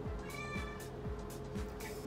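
A cat meows repeatedly in a close, fairly quiet sequence of rising and falling cries, about five calls in quick succession with no talk.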